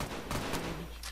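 A gun fires in a short burst in the shooter video game Brain Out, rattling and dense over a rumbling low background, brief and loud, with no talking.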